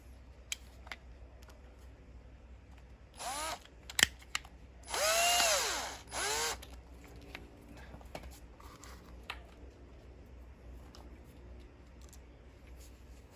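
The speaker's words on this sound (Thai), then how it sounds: "จากนั้นเราก็ ขันน็อตเข้าไปเหมือนเดิมครับ" A power driver tightens a nut on a roller blind rail, with several short whirring bursts and one longer rising whine in the middle, set among faint clicks and handling taps in a quiet room.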